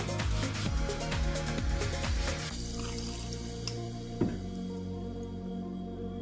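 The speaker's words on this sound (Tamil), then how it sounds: "இப்போ இது கூட நம்ம தேவையான அளவு தண்ணி சேர்த்துக்கலாம்." Water poured and stirred into freshly ground coarse peanut chutney in a home kitchen, a close wet splashing and trickling that is busiest at first, then thins to scattered drips and a soft clink.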